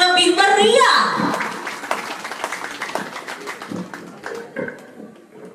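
A church congregation at an opening service breaks into loud applause and cheering, with clapping that starts dense and fades to scattered claps while voices ring out over it.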